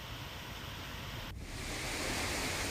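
The Sunsar waterfall near Bhiloda, swollen after heavy rain, makes a continuous broadband roar of rushing water. The steady wash stays loud and even throughout and grows slightly fuller midway, with no voices.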